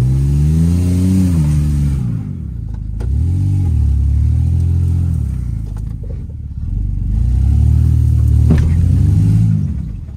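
A Toyota Yaris stuck on a rock revs its engine hard in three surging bursts, each rising and falling in pitch, loud and close.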